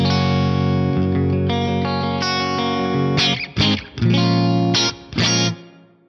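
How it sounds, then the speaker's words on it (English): An electric guitar run through a plate reverb with a 200 Hz low cut plays loud, sustained chords that bloom and decay, then shifts to short choppy stabs with reverb tails. "my go-to is this plate number one"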